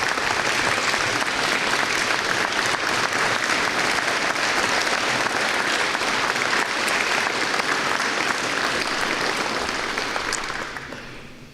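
A full round of applause from a standing conference audience honoring military veterans, loud, dense and sustained clapping that fades out near the end.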